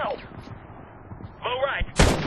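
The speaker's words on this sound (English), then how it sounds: "We're still taking indirect mortar fire here." A Medal of Honor (2010) battle scene with a short radio voice, then a single sudden, loud mortar blast near the end over low battlefield rumble.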